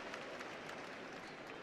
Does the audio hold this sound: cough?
no